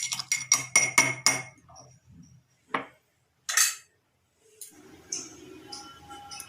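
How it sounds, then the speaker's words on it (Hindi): Whole spices are pounded finely in a kitchen for dry bhindi, giving a quick burst of sharp metallic clinks, then a few isolated knocks with pauses between, close and fairly loud, with no talk. "थोड़ा सा बारीक कूटे। तो देखो फ्रेंड्स, हमें इसी तरह कूट लेना है।"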